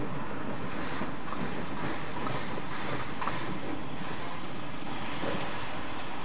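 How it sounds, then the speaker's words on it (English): A Harz narrow-gauge steam locomotive runs round its train, giving a steady broad rumble and rail noise at a moderate distance, with no voices. "The branch engine runs round its train before going back to Harzquerbahn."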